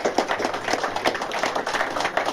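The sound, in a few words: clapping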